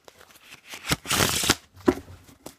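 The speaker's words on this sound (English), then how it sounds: "have them shuffle it, okay? They shuffle it." A deck of playing cards is shuffled up close for a party magic trick, giving two or three quick riffling bursts of crisp, papery flutter separated by short pauses, with a soft tap or knock between them and no talking.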